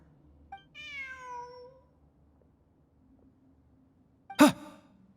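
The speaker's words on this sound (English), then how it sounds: "Look, a cat." A cat in Genshin Impact gives a drawn-out, falling meow early on, then after a quiet stretch lets out a second short, louder mew, both clear and close over faint background hum.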